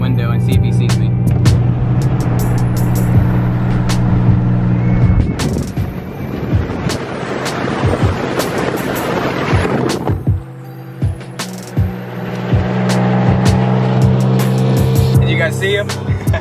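Cars pass on a highway, heard through an open window of a moving car, with engine drone, rushing wind and road noise that swells and fades as traffic goes by.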